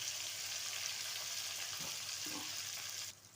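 Pointed gourd pieces fully submerged in hot oil give off a steady, soft frying hiss with faint crackles that continues almost unbroken, then drops off abruptly near the end.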